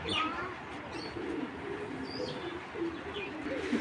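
Imported racing pigeons, a maxi pair, cooing softly amid scattered chirps in a loft, with a steady low murmur of bird calls and faint wing movement throughout.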